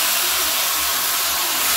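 Mutton browns in a hot pan with whole garlic cloves, giving off a steady, dense sizzle that holds without a break.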